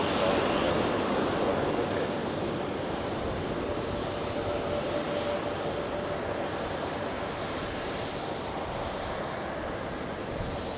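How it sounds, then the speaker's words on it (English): An Air Europa Boeing 737-800 departs Zurich Airport for Madrid, a steady, broad jet engine roar sustained at moderate distance with little change in level throughout and no voices. "let's take a look at this Air Europa 737-800. Departing to Madrid."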